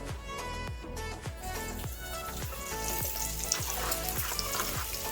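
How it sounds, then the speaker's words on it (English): Onions stir-frying in hot oil for Belizean salbutes give a continuous hissing sizzle beneath prominent rhythmic background music with a steady beat. "we're gonna put some of these onions and we're gonna stir fry them"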